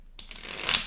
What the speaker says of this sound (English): So we're going to do two more shuffles.